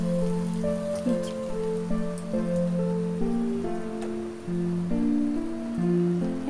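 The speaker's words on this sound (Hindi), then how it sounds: "इसको हल्का फ्राई कर रही हूँ, मतलब शैलो फ्राई कर रही हूँ मैं" A bread snack shallow frying in hot oil makes a dense, continuous crackling sizzle like rain on a surface. It runs steadily throughout, under loud background music with stepping tones and no speech.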